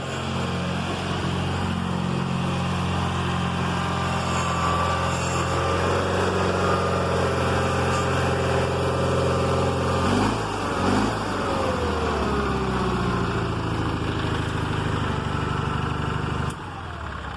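A John Deere 316 garden tractor engine runs steadily nearby with a constant droning hum, a brief shift in pitch midway and a slight drop near the end, with no one talking.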